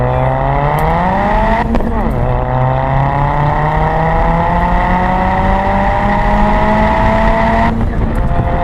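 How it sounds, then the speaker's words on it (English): A boosted Ford Fiesta ST X47R making about 280 wheel horsepower accelerates hard in second gear, its loud engine note climbing steadily in pitch from inside the cabin, with a quick gear change near the start and another near the end. "Because I haven't been in a boosted Fiesta like this in a long time. So second gear."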